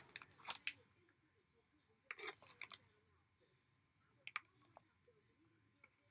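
Small scissors snip robin's egg blue embroidery thread in short, crisp clicks that come in a few quick clusters separated by near-silence, close and faint.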